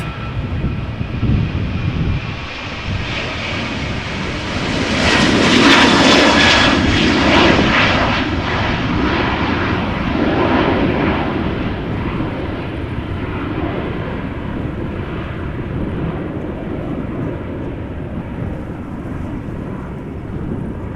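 Transavia Boeing 737 departing Amsterdam Schiphol, its jet engine roar swelling to a loud broadband peak as it passes, then trailing off into a long fading rumble in the distance.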